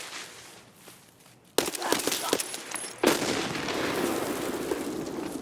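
Gunfire from the video game Escape from Tarkov: after a quiet stretch, loud sharp shots burst out close by, a second burst follows, and a harsh noisy wash lingers to the end.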